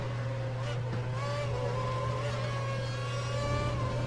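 Formula 2 race car engines drone steadily in a racing video game at Monza, a loud sustained engine tone holding constant pitch through the whole stretch with no clear passes, while a commentator speaks over it.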